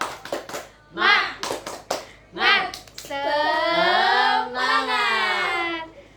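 Indonesian schoolchildren do a 'tepuk semangat' clapping chant in class: sharp rhythmic hand claps close by, mixed with their voices shouting and chanting together in unison.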